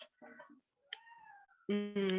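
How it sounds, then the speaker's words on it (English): A cat meows several times up close, starting with soft, short mews and ending in two louder, drawn-out cries. "that is my cat"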